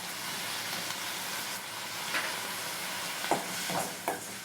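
Tomatoes seasoned with salt and asafoetida sauté in a hot pan for a tomato chutney, giving a steady, close sizzling hiss with a few brief spatters and stirring scrapes.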